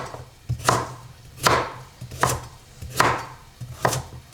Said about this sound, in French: ce que j'aime bien faire avec mes carottes, c'est couper des biseaux comme ça, un peu inégaux